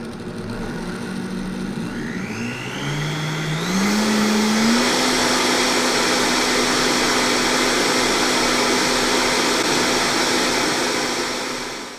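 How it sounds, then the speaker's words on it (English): A kitchen blender whirs through clam chowder thickened with xanthan gum, its motor ramping up in pitch over a few seconds and then holding a loud, steady high whine. "So you can see just blending it for a second."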